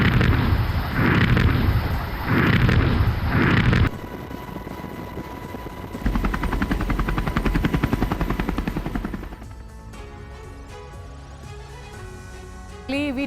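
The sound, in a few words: explosions from French and German warships in a NATO exercise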